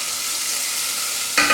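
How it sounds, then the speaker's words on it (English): Steady, dense sizzling of laksa aromatics frying in a hot pan, with a brief louder burst of crackle near the end. "All the aromatics are sizzling away."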